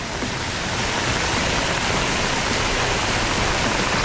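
Heavy rain pours down in Busan, South Korea, in a dense, constant roar with no pauses, loud and close.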